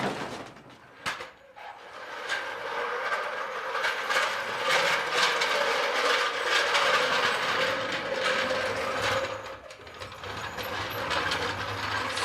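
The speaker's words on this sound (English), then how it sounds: "So nothing a floor jack can't fix." Floor jack being pumped beneath the rear of a 1956 International COE truck during a suspension drop, a steady run of metallic ratcheting clicks close by, continuous for most of the stretch with a brief pause near the start and another near the end.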